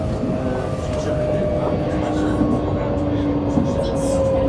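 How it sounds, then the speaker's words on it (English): A train passing the Bulwell Forest level crossing in Nottingham, a steady low rumble with a faint tonal drone held throughout at moderate distance. "Oh, there's the train."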